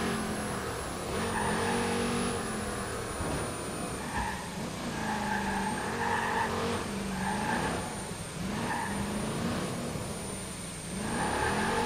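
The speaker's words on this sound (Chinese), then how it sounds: "车子好吵，一直发出烧开水的声音。" Car engine in the Watch Dogs 2 video game, a steady high whine like a boiling kettle with revving and tire-squeal swells, fairly loud and continuous throughout.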